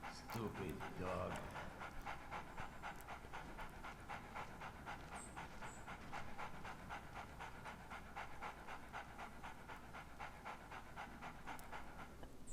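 A dog pants steadily in the Splinter Cell HD video game, a rapid rhythmic breathing that runs throughout under a faint ambient game background.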